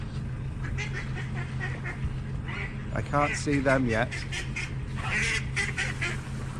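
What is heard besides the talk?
ducks and geese squabbling and honking on a canal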